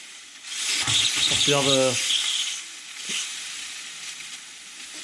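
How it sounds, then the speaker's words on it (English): Steam wand of a Rancilio Silvia espresso machine hissing as a steady broad hiss, loudest early and continuing more softly, with someone talking briefly over it. "So we have steam."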